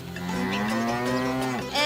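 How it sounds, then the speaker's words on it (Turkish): A cow lets out one long, loud, drawn-out moo close by in a barn, its pitch falling at the end. "Evet, burası da ineklerin olduğu barınak."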